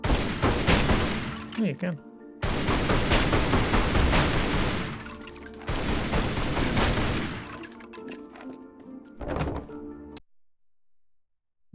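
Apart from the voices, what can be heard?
gunshots in the video game Tomb Raider Anniversary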